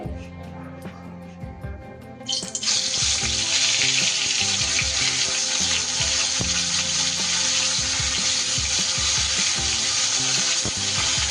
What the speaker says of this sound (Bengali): এই ধরনের মাছ তো একটু নরম হয়, তাই খুব সাবধানে আস্তে আস্তে উল্টে পাল্টে কিন্তু মাছগুলো আমি ভেজে নিচ্ছি।